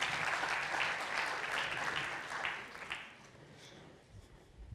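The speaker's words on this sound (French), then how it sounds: "On peut les applaudir" An audience at a talk gives steady applause that holds for a few seconds, then thins and fades to scattered claps, fairly quiet and at a slight distance.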